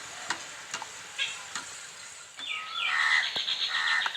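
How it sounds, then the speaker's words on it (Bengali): Hot thickened milk for mango doi is stirred in a pot to cool it, with a few soft scrapes and taps followed by a louder swishing patch, all fairly quiet and close, with no voices. "দুধটাকে একটু ভালো করে নাড়াচাড়া করে একটু ঠান্ডা করে নিতে হবে"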